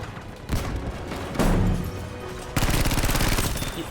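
Heavy gunfire erupts in a shooter video game, with loud overlapping bursts and a rapid machine-gun-like rattle that runs steadily through the final stretch.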